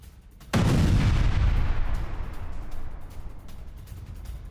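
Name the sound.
landmine explosion in war footage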